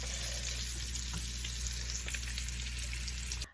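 Low-carb keto crack dip sizzles steadily in a pan as it cooks, a constant near frying hiss with soft crackles over a low hum, no voices.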